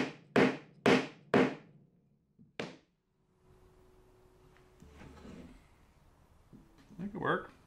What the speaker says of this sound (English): Flip this over and hammer it home.